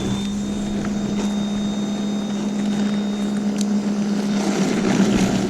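An EGO 21-inch electric snowblower clearing a driveway, a steady close motor hum and whir that holds even for the whole stretch.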